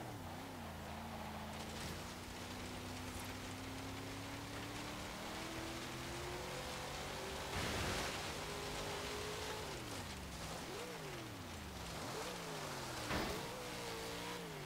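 A 1973 AMC Gremlin X engine in Forza Horizon 3 drones steadily through an autocross lap, its harmonics rising and falling with repeated revs and gear shifts, loud and continuous with some hiss.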